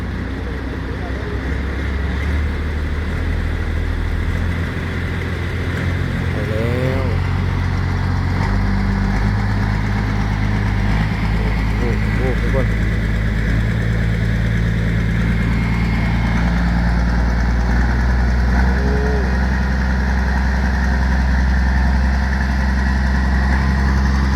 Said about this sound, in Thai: เรือบรรทุกเนี่ย